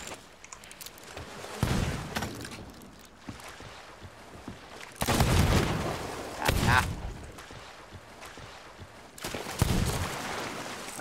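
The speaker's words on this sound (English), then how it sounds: "I shot him twice" Gunfire in the pirate game Sea of Thieves, several loud shots and booming reports spaced apart among quieter stretches of ambient noise, with faint voices talking in between.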